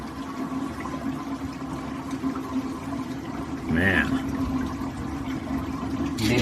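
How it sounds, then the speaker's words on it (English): A Whirlpool sink drains after its stopper is pulled, a steady watery gurgle with a brief louder swirl partway through, under a low background hum while someone speaks briefly. "Go ahead and pull out the stopper there, and it's gonna make a noise."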